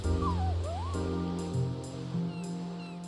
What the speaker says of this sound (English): got a sniffer dog